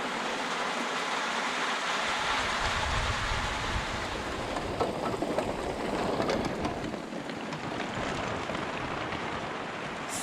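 A heavy thunderstorm pours rain and hail onto a wild campsite in the mountains of Bosnia, a dense, steady roar of downpour lasting throughout with no voices.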